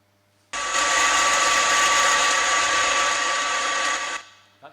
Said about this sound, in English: That's general boat noise.